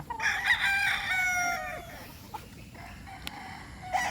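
Rooster at a chicken breeding farm crowing once, loud and close, followed by quieter clucks and faint farmyard sounds.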